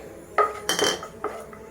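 Fried dry fruits are scooped onto a plate in a kitchen, giving a few sharp metallic clinks and scrapes of a utensil against the dish, close and clear over a quiet background, with no talk.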